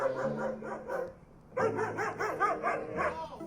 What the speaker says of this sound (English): when you listen to the bark, it's not a crazy bark